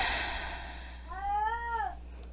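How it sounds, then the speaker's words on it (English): A domestic cat meows from behind a closed door: one drawn-out, wavering meow, moderately loud but slightly muffled, over a quiet low hum with no talk. "My cat is very disappointed."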